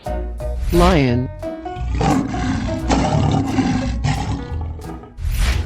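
A lion in a 3D animal video game lets out a loud, rolling roar that rises and falls across several bursts, backed by game sounds, with no one talking.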